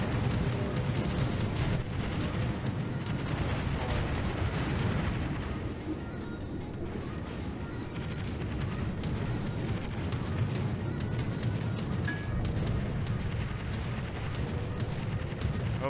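Warship guns firing in World of Warships, a dense stretch of repeated booming and cracking shots over a constant low rumble of battle, steady and loud throughout with no talking.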